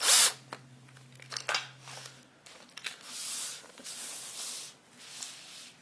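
A power drill drives a hanging fitting into a picture frame in short bursts of whirring, with brief pauses between runs and some rubbing and handling noise.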